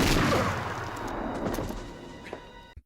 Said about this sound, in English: more shots ring out, this time aimed at Sam